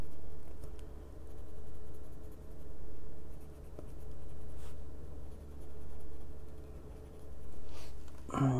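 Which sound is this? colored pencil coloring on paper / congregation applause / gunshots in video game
colored pencil coloring on paper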